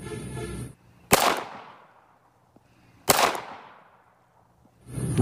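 A toy Mark pistol gives two sharp, loud cracks about two seconds apart, each fading off quickly, with another shot beginning at the very end.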